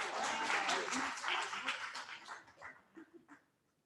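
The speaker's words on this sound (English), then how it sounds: "Give her a round of applause" Applause breaks out at a Gender Links 20th birthday celebration, a full round of clapping from the gathered crowd that is loud at first, then thins to scattered claps and dies away with a few voices underneath.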